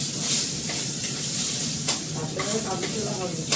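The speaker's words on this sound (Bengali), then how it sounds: "আলুটা একটু ফ্রাই করে দিলাম" Potatoes frying in a pan seasoned with nigella seeds, a steady close sizzle with scraping stir sounds and brief clinks throughout, and a faint voice in the background.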